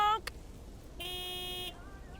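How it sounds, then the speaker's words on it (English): A big white truck's horn honks: a short blast, then a steady, buzzy honk lasting under a second, loud and close, with a faint tone trailing after. "Big, white, wobbly, and with a honking great horn."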